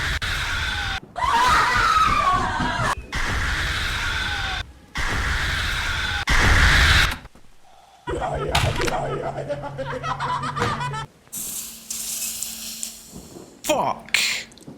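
Screams and loud jump-scare effects from the horror video game Shhh!! come in harsh repeated bursts, followed by sharper stabbing effects and a low sustained tone, loud and close.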